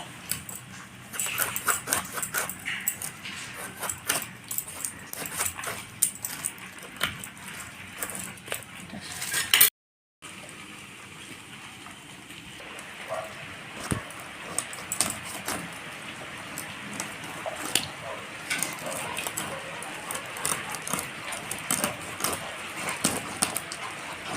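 A knife taps and scrapes as the head of a fresh rohu fish is split on a cutting surface, with irregular sharp clicks and knocks, close up and fairly quiet.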